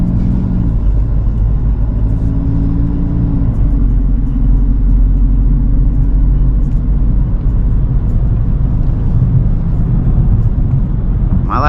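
The interior of a custom Kia on the road is heard, with a steady, loud low engine rumble and road drone that shift slightly as the car accelerates, and no talking.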